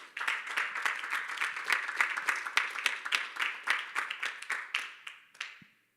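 A church congregation claps together during a Spanish-language sermon on the Holy Spirit: a dense, lively burst of many hands applauding steadily for about five seconds before thinning into a few scattered claps and stopping.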